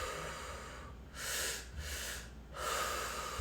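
Meditative breathwork through the mouth: two quick, airy in-breaths followed by one longer out-breath, close and soft with no talking.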